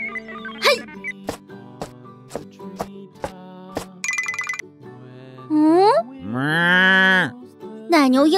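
A cartoon cow moos in long, loud, pitch-bending calls late in the sequence, following a run of sharp rhythmic ringing hits and brief animated voices.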